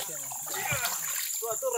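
Rushing, splashing water from a waterfall at Lago Chambira near Yurimaguas roars steadily nearby while people talk over it.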